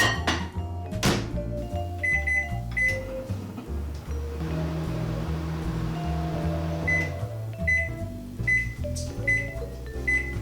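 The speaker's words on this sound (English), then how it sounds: "heat them up in a microwave for a couple of minutes" A microwave oven runs while heating dates in water, its steady hum and whir lasting several seconds, with beeps and a door thunk at the start and end.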